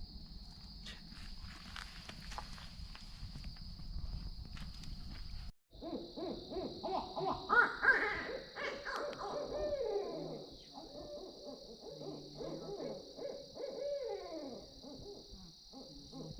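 Owls hooting at night at a swamp campsite, with several loud, repeated hoots coming in rounds over a steady hum of night insects and occasional rustling.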